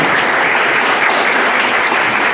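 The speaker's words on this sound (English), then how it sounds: "Maybe a round of applause for our panelists." An audience at a mobile home summit in Vallejo, California applauds its panelists, steady dense clapping filling the room from start to finish with no voices standing out.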